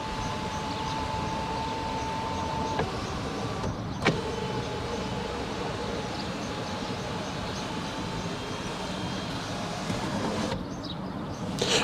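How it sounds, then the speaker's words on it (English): A car's electric sunroof motor hums softly as it is reinitialized by a diagnostic tool, a faint steady whine with a couple of clicks as it stops and starts, heard alone in a quiet setting. "if we look at the top of the vehicle, you can see that it's reinitializing the sunroof."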